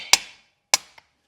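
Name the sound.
snapping scored glass open along the cut line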